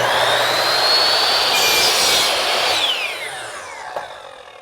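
A Ryobi 12-inch sliding miter saw cutting a bevel, a loud steady high motor whine with blade cutting through wood for about three seconds, then spinning down and fading toward the end.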